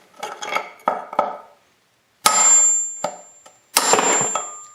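A hammer strikes metal several times while tapping out a Honda CR250/CR500 wheel bearing: a few lighter taps, then two hard ringing blows separated by short pauses.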